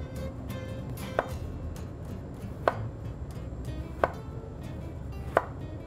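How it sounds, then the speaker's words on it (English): Knife slicing through eggplant onto a cutting board for eggplant Parmesan: four crisp, evenly spaced thunks about a second and a half apart, close and clear over faint background hiss. "make all of your slices so that it's all nice and even"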